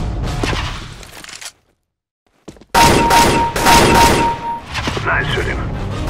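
Counter-Strike gunfire, sharp rapid bursts of shots and booms in two loud clusters separated by a brief near-silent gap, with a voice speaking over the action.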